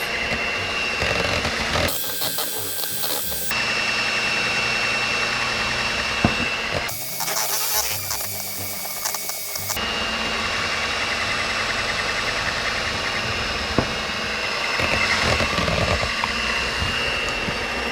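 An electric mixer beats cheesecake batter in a bowl, giving a steady motor whir throughout with two louder, rougher surges as the beaters dig in. Nobody speaks.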